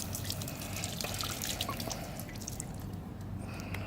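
Water runs from a public fountain in Seville, Spain, a steady close splashing stream with scattered drips and droplet spatter throughout.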